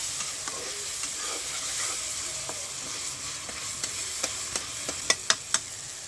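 Fish curry spices with turmeric frying in a pan make a steady close sizzle. Light stirring scrapes run through it, and a few sharp clicks of the utensil come toward the end.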